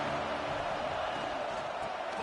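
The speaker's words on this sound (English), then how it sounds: "This crowd ready to make its presence known" Crowd noise at a Tennessee versus Georgia football game, a steady, broad roar of a large stadium audience, continuous and moderately loud with no distinct individual voices.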